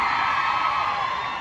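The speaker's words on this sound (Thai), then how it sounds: "ขอเสียงกรี๊ดเป็นกำลังใจอีกสักทีค่ะ" A crowd of fans at a brand relaunch and product launch event shrieks and cheers continuously, a dense high-pitched wall of screaming that holds steady throughout.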